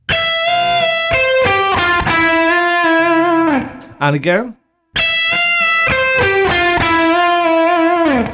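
Distorted electric guitar plays a lick with several string bends, broken by a brief spoken phrase before the lick repeats.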